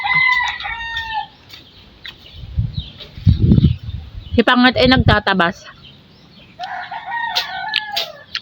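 Chickens cluck and a rooster crows nearby in a farmyard while grass is being cut, with someone speaking Tagalog between and over the calls.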